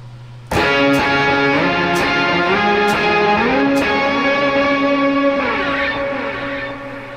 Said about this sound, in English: Let the distortion and the pre-block turn on.